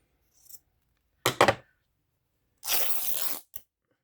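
Paper for a puzzle-themed journal cover being cut in half, giving two short ripping bursts followed by a longer, louder tearing sweep and a final quick snip, close and clear with no talking.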